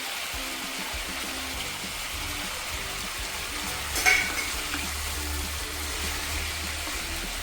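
Chicken frying with tomatoes in a pan hisses and sizzles in a steady wash of noise, with a soft stirring knock partway through and no talking.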